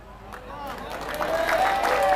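Applause builds from a crowd at an Islamic religious lecture at an Indonesian pesantren, clapping swelling under a babble of voices and someone talking over it.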